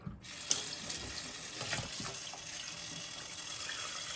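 Tap water runs steadily into a kitchen sink while a whole raw turkey is washed under it, giving a continuous close gushing hiss with a brief splash near the start and no voices.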